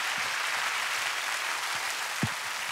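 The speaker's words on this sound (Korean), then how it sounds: "반갑다라고 환영의 박수를 한번 또 보내드려 볼까요?" Studio audience applause welcoming a guest on a Korean TV music talk show, a soft, fairly distant patter of clapping held evenly throughout, with one sharper thump near the end.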